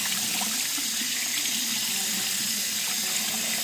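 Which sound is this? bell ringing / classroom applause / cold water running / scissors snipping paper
cold water running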